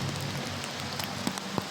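Rain pours steadily onto an outdoor car wash, a dense continuous hiss with a few louder individual drops and splashes standing out near the end; no one speaks.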